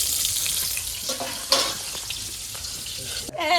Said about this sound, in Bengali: আর বেগুন ভাজা চলছে